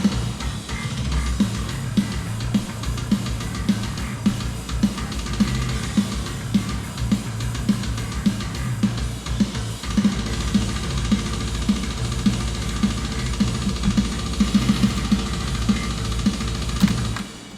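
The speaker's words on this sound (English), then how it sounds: "So now the bass should sound somewhat decent." A rough studio mix of the song Let Down by Sworn In plays back continuously, bass guitar heavy, with steady pulsing low notes and a regular beat throughout.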